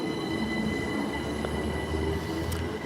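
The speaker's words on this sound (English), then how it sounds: "This train has now just left the station." A train pulling out of the station at York, a steady rumbling roll of wheels on track with faint squeals and a low diesel drone, moderately distant and without voices.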